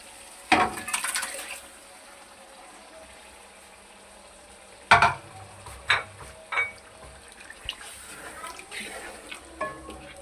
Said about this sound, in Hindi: ये हम गोश्त डाल रहे हैं।